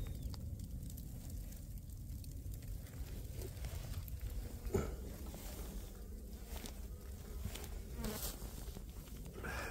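Native Korean honeybees buzz at a farm on a snowy day while being fed, a steady close drone of many insects with faint scattered knocks and rustles, no voices.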